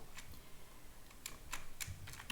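Computer keyboard keys tapped in a short, irregular run of sharp clicks, faint and close, over quiet room hiss.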